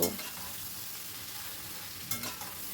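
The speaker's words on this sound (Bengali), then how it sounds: "এবার সব কিছু ভালো করে মিশিয়ে নিচ্ছি মিডিয়াম টু হাই ফ্লেমে রেখেছি রেখে অনবরত কিন্তু নাড়াচাড়া করে" A soybean and egg mixture stir-fries over medium-high flame, with a steady close sizzle and a scrape of the spatula at the start and again near the end.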